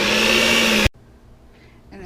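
An electric mixer whirs loudly through cupcake frosting with strawberries for almost a second, then switches off abruptly, leaving near quiet with faint rustling.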